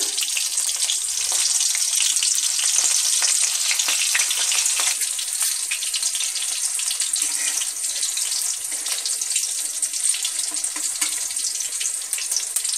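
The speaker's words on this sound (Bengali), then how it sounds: "আমি দু কোয়া রসুন একটু থেতো করে রেখেছিলাম সেটা দিয়ে দিলাম" Crushed garlic cloves dropped into hot oil in a pan, a loud, bright, steady crackling sizzle that runs continuously and close, with no talk.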